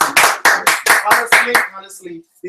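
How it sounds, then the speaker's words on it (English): Audience clapping at a summer reunion in Upper Marlboro, Maryland, a series of sharp, close claps in quick bursts that fade out, mixed with a voice speaking. "We just want to use this opportunity to applaud our executive for the great job you guys are doing."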